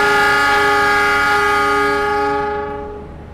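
A loud, sustained chord of an Indonesian train's horn sounds the Semboyan 35 departure signal for the Argo Bromo Anggrek leaving Gambir station. Steady tones hold close and strong, then fade near the end.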